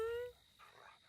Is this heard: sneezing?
no